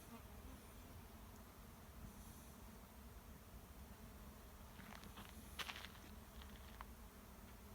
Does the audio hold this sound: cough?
no